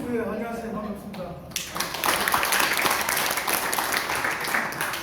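Someone speaks briefly, and then an audience at a regional policy meeting breaks into loud, steady clapping that continues to the end.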